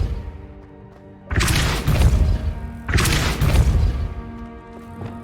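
Two heavy booming impacts from the Depulso force spell in the Hogwarts Legacy video game, each a loud broadband blast that decays over about a second and a half, with game music humming underneath.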